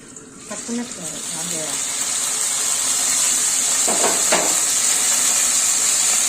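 A loud, continuous sizzle of food frying in a pan builds and holds steady, with a voice speaking briefly near the start.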